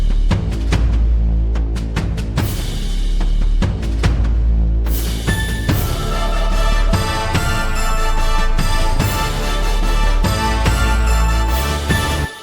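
A loud trap-beat marching band loop plays with a deep Reese bass rumbling underneath. Punchy drum hits drive a steady rhythm that thickens into a dense, sustained wall of sound halfway through, with no voices.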